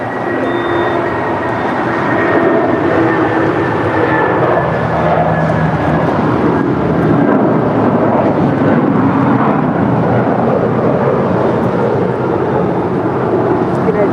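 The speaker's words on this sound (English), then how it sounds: "That is United Airlines Flight 1700 departing to Newark Liberty. It's a 22-year-old 757-200." A United Airlines Boeing 757-200, 22 years old, departing LAX for Newark: a steady, broad jet engine roar that holds strong throughout, with voices talking faintly under it.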